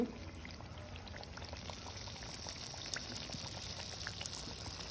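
Pala boorelu frying in hot oil, a soft, steady bubbling and fizzing with small crackles, faint and close, continuing evenly without talk.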